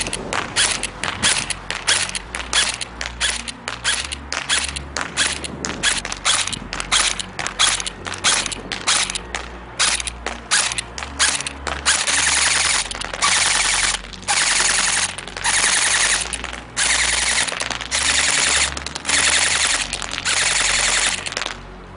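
An airsoft gun fires 0.3 gram BBs, first as sharp single semi-automatic shots in a steady run, then in longer full-automatic bursts, loud and close with no talking.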